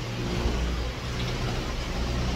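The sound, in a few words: cars revving past on a road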